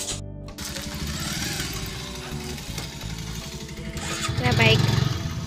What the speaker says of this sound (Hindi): बाइक